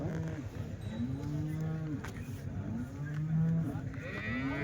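Cows low repeatedly at a weekly cattle market in Punganur, with several long, deep moos close by over a busy background of other livestock and a faint cowbell.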